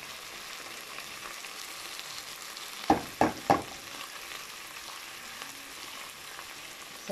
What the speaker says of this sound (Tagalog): At ilalagay na natin guys ang corned beef del Mondo